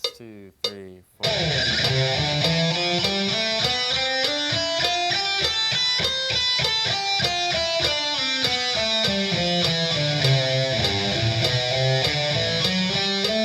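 Electric guitar playing a pentatonic scale in a steady run of single notes, climbing and descending across the neck in a clear rhythm, loud and close, with no talking over it.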